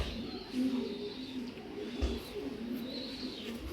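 Racer pigeons, including a prize-winning pair, coo in low repeated rolling phrases, moderately close, with faint chirps and a soft thump mixed in and no speech.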